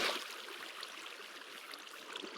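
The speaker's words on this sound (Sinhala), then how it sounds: "මෙන්න මෙහෙම වතුර බකට් එක දාලා කැලේ නැති කරගන්න පුළුවන්" Water emptied from a bucket in Minecraft spreads as a soft, continuous flowing trickle. It stays faint and even throughout, with no voices over it.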